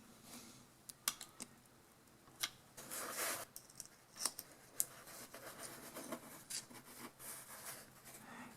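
A seal being cut off the piston of a John Deere loader hydraulic cylinder during a rebuild: scattered sharp snips and scratchy scraping strokes, close and fairly quiet, with brief pauses between cuts.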